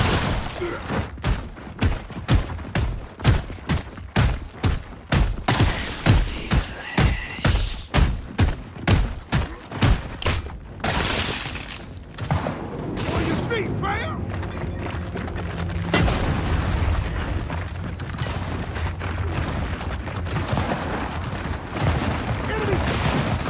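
Rapid rhythmic gunfire bursts from a Gears of War 4 multiplayer match give way to a sudden loud blast, followed by a noisy rumbling aftermath.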